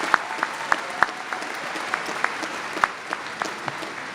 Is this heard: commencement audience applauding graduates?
yes